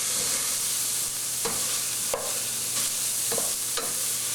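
Spoon scraping and stirring ground bison browning in a chili pot, with a steady sizzle underneath and several distinct scrapes spaced through a few seconds, close and moderately loud.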